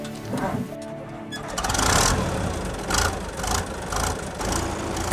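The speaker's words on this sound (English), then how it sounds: "an old shabby forest machine with a crane" An old, shabby forest machine with a crane runs its engine in a steady, close diesel rumble that swells in several surges, as if revving under load.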